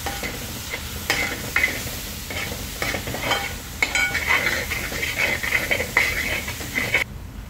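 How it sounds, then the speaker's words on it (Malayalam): Spices with turmeric and salt fry in a pan, giving a close sizzle broken by repeated metallic scrapes and clanks of a spoon stirring against the pan. "മഞ്ഞൾ ചേർത്തു, കുറച്ചുപ്പ് ചേർത്തു, ഇതും കൂടി ശരിക്കും നന്നായിട്ടൊന്ന് മൂപ്പിച്ചെടുക്കുക"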